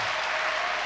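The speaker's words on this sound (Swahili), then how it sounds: "Tumpikie makofi Bwana." A church congregation breaks into a brief burst of dense, steady clapping during a worship service, loud and close with no voices over it.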